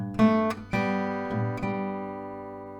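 Acoustic guitar playing a passage from a song: a few plucked notes and strums in quick succession, then ringing chords left to sustain and fade, close and clear with no voices.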